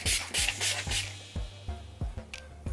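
Urban Decay Chill Makeup Setting Spray misted in several quick close bursts, each a short airy hiss, the first few loud and rapid, the later ones shorter and spaced apart.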